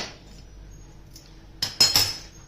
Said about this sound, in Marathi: तीच कढई ठेवली गॅसवरती